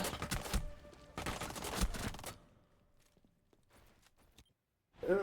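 Gunfire in Rainbow Six Siege during a competitive match, with dense bursts of shots in the first two seconds, a quieter stretch of scattered faint reports, and a final sharp burst at the end.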